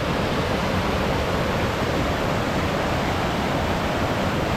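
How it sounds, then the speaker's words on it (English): Steady broadband rush of a river flowing through woodland along the Dales Way, a continuous close and fairly loud churn of moving water with no pauses and no voices. "We keep crossing this river."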